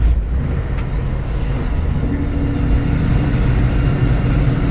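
Truck engine rumbling while gears are shifted on an 18-speed Road Ranger gearbox, a loud steady low drone in the cab with a slight change in engine tone partway through.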